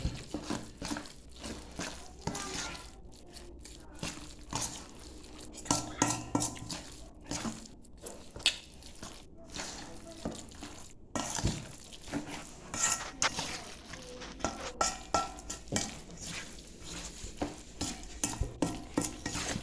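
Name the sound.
stirring shrimp in a pan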